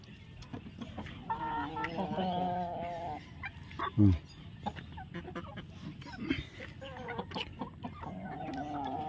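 Chickens clucking and pecking while being fed azolla, with several nearby clucks and calls, a sharp thump in the middle, and scattered pecking taps; a person speaks briefly.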